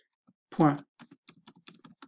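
Typing a web address on a computer keyboard, a quick run of close, crisp key clicks with one louder keystroke near the start, in a quiet room.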